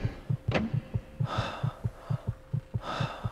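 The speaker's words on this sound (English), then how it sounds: "her heartbeat go down a little bit." Steady heartbeat from the horror game Echo Night: Beyond, a loud, regular double thump about every third of a second, with breathy gasps and a low hum layered over it.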